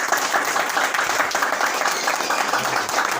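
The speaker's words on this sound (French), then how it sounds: "Acclamons pour le Seigneur" A church congregation claps and cheers in praise of the Lord, a dense, continuous burst of applause filling the room at close range.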